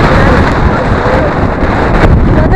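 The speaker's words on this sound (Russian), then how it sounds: "На улице бешеный ветер" Strong wind batters an outdoor microphone in downtown Milwaukee among tall buildings, a loud, continuous roaring rumble with buffeting gusts that drowns out everything else.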